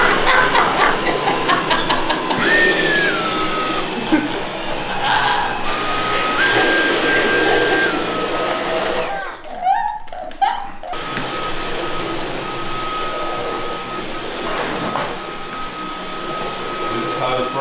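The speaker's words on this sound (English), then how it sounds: "After like 3 minutes of vacuum cleaning." A household vacuum cleaner runs with a steady droning whine, close and loud, under ongoing talk. The motor cuts out briefly near the middle, then resumes for the rest.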